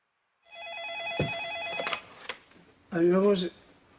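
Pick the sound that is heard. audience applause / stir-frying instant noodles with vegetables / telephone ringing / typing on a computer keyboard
telephone ringing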